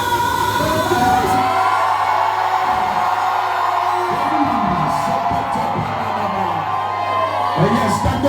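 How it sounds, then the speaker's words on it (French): A church congregation at a sermon shouts out together in a loud, sustained roar of voices, with cheering and whoops layered over a steady droning tone throughout. "Est-ce qu'on peut crier encore Jésus?"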